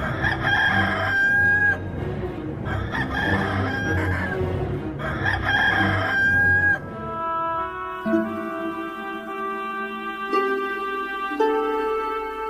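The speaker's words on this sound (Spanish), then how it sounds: "el gallo cantó" Rooster crowing three times in a loud, close, drawn-out cock-a-doodle-doo, each call evenly spaced, followed by a sustained musical passage.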